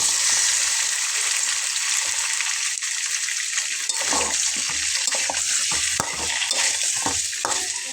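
Taro frying in oil with a bay leaf, being stirred: a loud, continuous bright sizzle with rhythmic scraping stirs growing busier in the second half.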